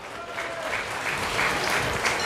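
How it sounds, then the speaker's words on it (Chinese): A crowd at a Lions Club installation ceremony bursts into sustained, dense clapping that swells and holds throughout, filling the hall. "2425同学，给掌声一个好啊！"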